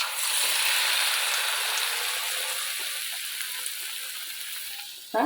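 Betel leaf bajji fry in hot oil, a strong steady hiss that slowly softens over several seconds before a short bump at the end, with no one talking.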